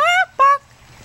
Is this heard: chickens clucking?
yes